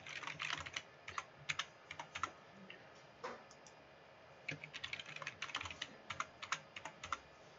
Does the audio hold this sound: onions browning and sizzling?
no